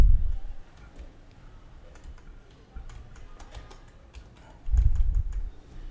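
Keys clicking steadily on a computer keyboard as an SQL update query is typed, close and fairly quiet, with a louder cluster of keystrokes near the end and no voice.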